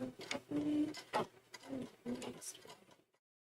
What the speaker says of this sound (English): Then we stitch it, stitch it, stitch it, stitch it.